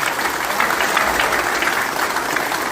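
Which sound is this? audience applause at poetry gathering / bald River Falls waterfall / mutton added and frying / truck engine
audience applause at poetry gathering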